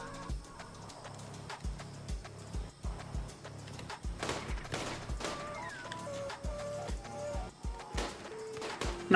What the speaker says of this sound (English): Hunting the chinchilla with a heavy SMG.